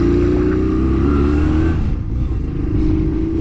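A motorcycle abandoned for seven years runs on a short test ride, its engine droning loud and close with a steady buzzing tone that briefly dips and stumbles before picking back up.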